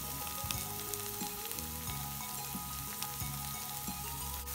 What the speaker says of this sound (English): let's just let the spices cook for another minute or two